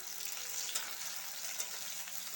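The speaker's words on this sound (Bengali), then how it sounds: "এখানে আমি 5 ফোড়ন ফোড়নে দিলাম, আর দিয়ে দেবো পেঁয়াজ কুচি দিয়ে।" Panch phoron and chopped onion frying in oil in a kadai give a soft, steady sizzle at moderate distance, with a couple of small crackling ticks and no voices.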